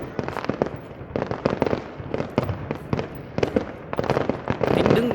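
Lunar New Year fireworks for spring 2020 in Thanh Hà, Hải Dương, go off in a dense, continuous run of rapid booms and crackles, loud and fairly close, with no pause.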